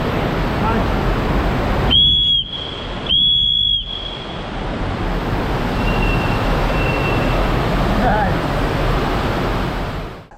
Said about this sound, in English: Gonna blow the whistle.